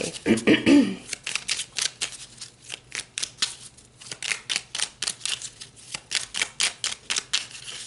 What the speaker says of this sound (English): Let's pull some cards to clarify.